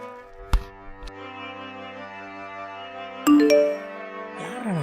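A bright two-tone phone message notification chime rings out over steady tonal background music, followed later by another short electronic jingle.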